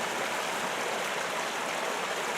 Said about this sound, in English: A little more up close and personal with the creek here.